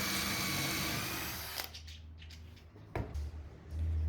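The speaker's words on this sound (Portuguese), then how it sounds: "eu faço os furos para encaixar as cavilhas" A power drill bores dowel holes in wood for a small bathroom cabinet, a loud whirring run that cuts off midway, followed by quiet handling knocks and a short restart, heard close.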